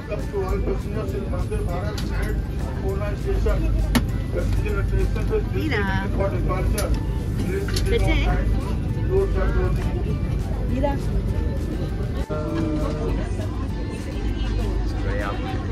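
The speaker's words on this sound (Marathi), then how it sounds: "सो आमची ट्रेन मेल काय चालू झाली आहे." A steady low rumble of a moving Vande Bharat Express train between Pune and Kalyan fills the whole stretch, with people talking over it throughout.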